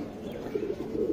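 Chitte Buri pigeon cooing softly in a low, continuous murmur, close and steady with no talk over it.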